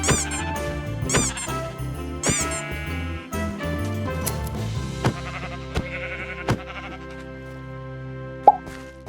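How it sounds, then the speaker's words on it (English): Repeated squeaky toy squeaks and bleating sheep over upbeat background music, with short bursts popping up every second or so, as woolly sheep are punched in Minecraft with a mod that adds squeaky toy sounds. "introduces a squeaky toy sound when you punch a sheep that still has all its wool"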